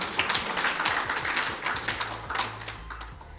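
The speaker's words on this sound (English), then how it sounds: "please clap for yourselves." Moderate applause from women in the audience during a keynote speech on impact investing, a scattered mix of claps over a low hum.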